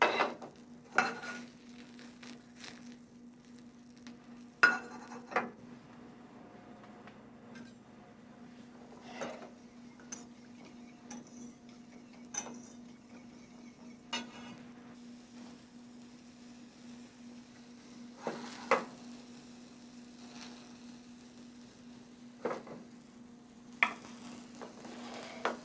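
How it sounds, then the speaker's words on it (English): Yellow tomato puree sauce simmering in a pot, stirred now and then: a steady low bubbling hum broken by scattered scraping clinks of a utensil against the pot, fairly quiet and with no talking. "now the sauce is boiling here"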